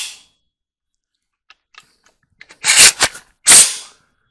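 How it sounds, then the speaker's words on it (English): Metallic clicks and a couple of loud, sharp clunks come from a gun's trigger mechanism as the sear resets, close and isolated in near silence. "We hear a clunk. That is our sear resetting."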